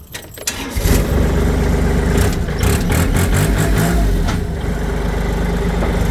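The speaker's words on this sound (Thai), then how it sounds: "ลองมาสตาร์ทเครื่องยนต์ดู" A Kubota L3608SP tractor's diesel engine, a 2014 model with 982 hours, cranks briefly, catches, and settles into a steady, loud rumbling idle that continues to the end, close up with no voices.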